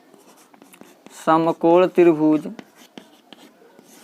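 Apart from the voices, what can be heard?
writing on a board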